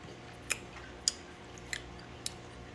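Bites of a crunchy homemade Dubai chocolate bar with kanafe and pistachio make four faint, sharp crunches spaced out over quiet room tone.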